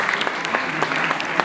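Applause at a cat show, a brief burst of steady clapping from a modest audience in a hall, fairly close and even throughout.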